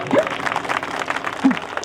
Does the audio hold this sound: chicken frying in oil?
no